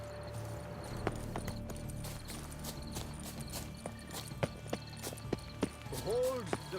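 Horse hooves clip-clop in a rhythmic, moderately close series in The Witcher 3, with sharper hoof strikes toward the end and a brief whinny-like cry, under faint game ambience and intermittent voices.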